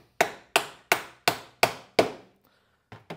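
A mallet pounds pegs into an X-Shot Micro toy blaster on a flat surface, six sharp, evenly spaced knocks in quick succession, then a pause and two lighter taps, loud and close with no talking.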